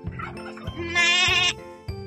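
Goat bleating in a farm setting, several short bleats with one long loud wavering call in the middle, close and clear with no talk.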